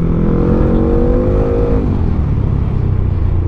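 Modified Yamaha XMAX 400cc big scooter engine revving hard and close, its pitch climbing steadily for almost two seconds before dropping back to a rough, loud drone.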